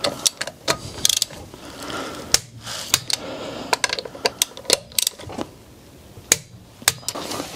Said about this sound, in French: on finit à la clé dynamométrique